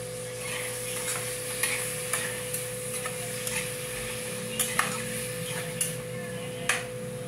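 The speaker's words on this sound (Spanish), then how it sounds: "Vamos a proceder a echarle los vegetales para que se sofría junto." Vegetables and homemade blended sofrito fry in a pan, a steady close sizzle broken by repeated sharp scrapes and clacks of a utensil stirring against the pan.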